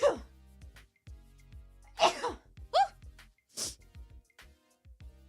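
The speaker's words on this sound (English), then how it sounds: "I have to sneeze." A single sharp sneeze bursts out amid quiet, broken voice sounds, followed by a short breathy exhale and soft shuffling.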